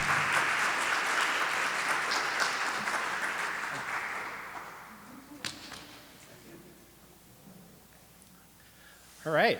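An audience applauds to welcome a speaker onstage at an evening talk, steady clapping that gradually thins and fades, followed by a brief quiet stretch and a short voice at the very end.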